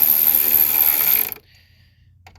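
A ratchet tightens screws into a stud while a Decked storage system is installed in a 2020 Jeep Gladiator: a loud, close run of fast clicking for over a second, then it stops abruptly and near silence follows.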